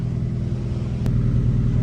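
A car engine idles with a steady low rumble and a slight rise partway through, while the exhaust is being removed during an engine rebuild.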